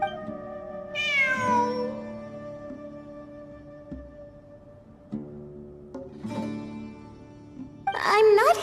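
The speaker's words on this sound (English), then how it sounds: "It really is a cat." A cat in the Genshin Impact video game meows several times, with rising and falling calls near the start, middle and end over a steady background of game music.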